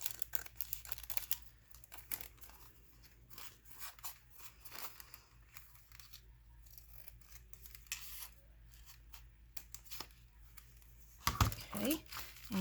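Scissors snip through the paper flap of an envelope for a journal, a run of small close crisp cuts and crinkles with a louder burst of snipping and paper handling near the end.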